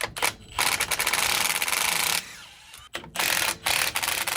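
Ratchet wrench loosening a 9/16 brake line bolt on a 1974 Ford F350, rapid close clicking strokes in bursts with a short pause midway and quick resets, loud and with no speech.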